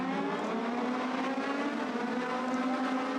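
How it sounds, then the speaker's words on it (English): Race cars roar around the Kern Raceway oval on a restart, a dense, steady engine drone with layered high-pitched revving, continuous and fairly distant with no voices. "Kevin Harvick's Kern Raceway lap 29 restart for about the 10th time here tonight."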